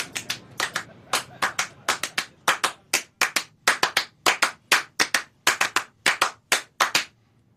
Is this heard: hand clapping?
yes